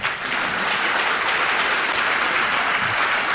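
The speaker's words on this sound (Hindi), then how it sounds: "वैसी तालियां इनके लिए बजा दीजिए आप" An audience at an awards gathering breaks into loud, sustained applause, a thick, even roar of many hands clapping close by with no break and no talk over it.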